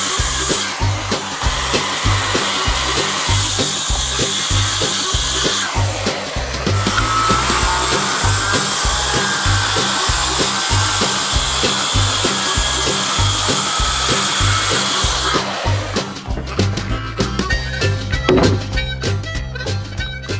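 A power saw cuts a notch in plywood, a loud, sustained whining buzz with a steady chattering pulse that dips briefly, resumes, and ends with the motor winding down amid rattling wood.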